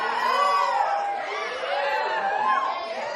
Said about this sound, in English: the fans are going nuts